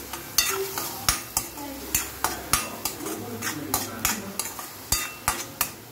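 Onions fry with salt in a pan for a tomato onion chutney served with dosa and idly, a steady sizzle under rhythmic spatula scrapes and clacks against the pan, roughly two strokes a second, with no talking.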